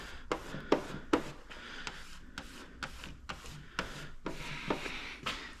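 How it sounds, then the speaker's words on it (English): Squeegee pressing down the edge of matte paint protection film on a BMW X5M rear fender: a series of short, close scraping and rubbing strokes at an irregular rhythm, fairly quiet, without speech. "I can take and squeegee that edge down."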